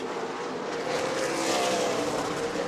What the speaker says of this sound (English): Crazy racing through lap traffic here in the Florida Governor's Cup as we come to lap 179